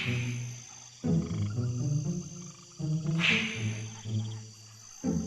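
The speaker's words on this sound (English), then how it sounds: "when all the lights are off, I hear the males croaking." Male tree frogs croak in a darkened rainforest vivarium during breeding season, a chorus of resonant, tonal calls repeating in short bursts with brief pauses, close and fairly loud, joined by a faint insect-like chirp and no talking.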